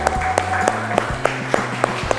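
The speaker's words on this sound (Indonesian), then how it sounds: "Tepuk tangan dulu buat kita semua." A physics class applauds together with evenly spaced, rhythmic claps about three times a second. The claps ring out over a low steady hum in a classroom and carry on without speech.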